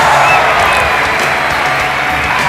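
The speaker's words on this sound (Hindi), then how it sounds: "1, तालियां" A seminar audience at a motivational session bursts into loud, close applause on cue, with scattered cheers and a whoop mixed into the dense, continuous clapping.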